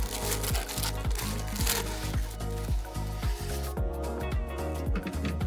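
Paper packaging around a Hot Wheels Red Line Club car crinkles and rustles continuously as it is unwrapped, with crisp tearing and crumpling sounds close up.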